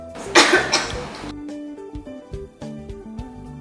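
A person coughs in a few harsh, loud bursts close by, followed by soft background music with no talking.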